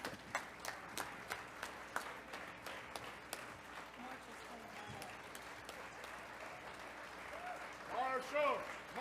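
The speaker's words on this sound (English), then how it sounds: "Give these guys a round of applause, please." Applause from a conference audience at a closing session: scattered, distinct claps at first that grow into fuller clapping, with voices and chanting rising toward the end, all fairly faint and distant.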